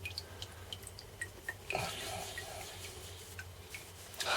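Isopropyl alcohol drips while being poured out, with sparse, quiet, irregular ticks of drops landing one by one and a brief, louder pouring splash partway through.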